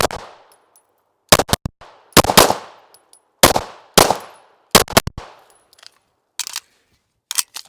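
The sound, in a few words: Sig P320 pistol being fired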